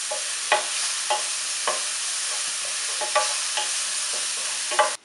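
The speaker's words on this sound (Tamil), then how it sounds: "இது எல்லாத்தையும் போட்டு நல்லா வதக்கிடுங்க." Ingredients sautéed and stirred in a pan for a fish omelette masala, with a steady close sizzle broken by a series of sharp scraping stirs, about seven over a few seconds, with no talking.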